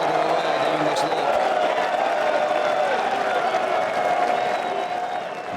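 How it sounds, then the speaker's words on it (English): A large golf gallery at the 2016 Ryder Cup roars and applauds in a sustained, loud wall of cheering as a putt slides down a slope. A commentator's voice runs underneath. "the cheering gets louder as the ball slides further away down the slope"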